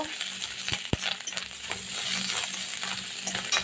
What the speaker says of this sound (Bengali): আমি দিয়ে দেবো আদা বাটা, দিয়ে দেবো রসুন বাটা, একটু পেঁয়াজের সাথে নেড়ে চেড়ে নেব।